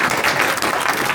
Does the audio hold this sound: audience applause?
yes